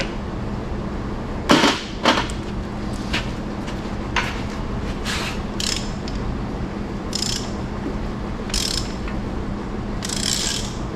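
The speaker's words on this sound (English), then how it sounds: "I do feel a little binding when I'm turning the crank though." A binding hand crank mechanism is turned, producing close, irregular ratcheting clicks and grinding mechanical bursts spaced over several seconds above a low steady background hum.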